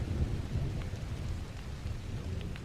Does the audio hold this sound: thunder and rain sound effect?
yes